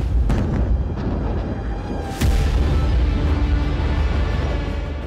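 Powerful explosions from Israeli airstrikes on Beirut, Lebanon, a sharp blast followed by a loud sustained rumble and roar that fills the space, heavy and distant-sounding, with no speech.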